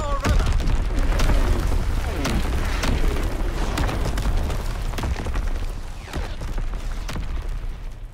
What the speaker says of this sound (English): Popping Fritz X bomb.